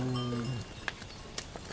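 Cow lowing in a children's farm tale, a single drawn-out moo in the opening half second, followed by faint scattered clicks and rustles.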